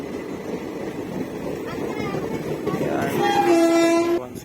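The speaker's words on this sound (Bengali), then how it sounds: "দেখছো ট্রেন মা।" A train rumbles past at close range with a steady rolling clatter that builds, then its horn blows in a long, loud sustained blast near the end before cutting off, with voices audible in the background.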